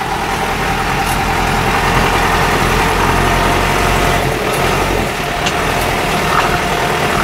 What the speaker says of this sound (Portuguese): Quem vai dirigir a Toyota hoje é o Lucas. Vai devagar, deixa ela andar para tirar o pé.